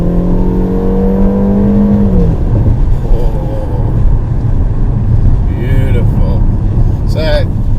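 A Peugeot 3008 SUV engine in sports mode revs hard and drones loudly, its pitch rising then settling into a deep rumbling growl with some mechanical whir.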